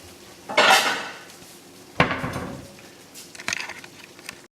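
Pots, pans and cutlery clink and clatter while a vegetarian curry with sausage is plated, with a loud scrape at the start, a sharp knock at two seconds and lighter taps after, nearby and with no talking.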